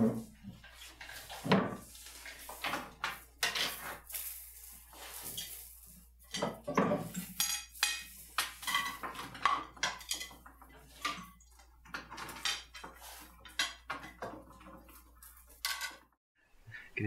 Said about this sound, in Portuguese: Hoje você lava a louça.